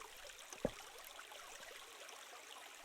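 Faint, continuous trickling stream water in a Minetest game world, a low steady wash broken by one soft click and a louder thump at the end.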